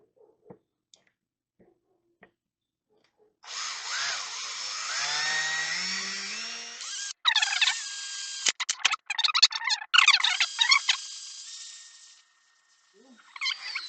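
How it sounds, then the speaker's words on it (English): A drill whines into a metal motorcycle seat pan on a Kawasaki KZ400, rising in pitch, then stutters in short bursts and catches, followed by quiet. "I'll go ahead and drill the other hole"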